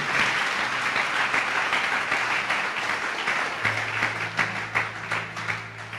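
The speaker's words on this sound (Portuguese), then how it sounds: "Você pode dar uma salva de palmas ao Senhor?" A church congregation at Igreja de Nova Vida do Catete breaks into loud, continuous applause, dense rapid clapping over a faint sustained instrumental tone that becomes steadier toward the end.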